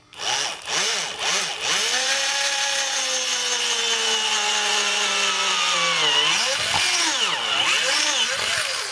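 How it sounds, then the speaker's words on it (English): A step drill bores a hole in ABS plastic, its motor whining steadily close by, with the pitch dipping and rising as the bit bites in and loosens, with no talk. "I'm going to take my drill, and I'm going to drill a hole so that I can get to it."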